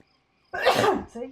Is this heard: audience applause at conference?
no